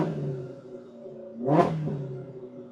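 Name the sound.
Polaris RZR Pro R with MBRP slip-on sport exhaust revving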